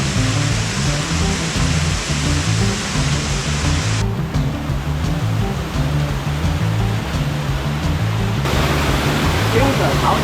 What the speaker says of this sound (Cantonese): 上到嚟有一個幾有型嘅瀑布添啊！ 呢度啊，啲水飛出嚟